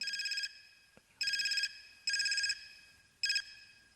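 A mobile phone ringtone rings in four short bright electronic bursts with brief gaps between them, close and clear in an otherwise quiet room.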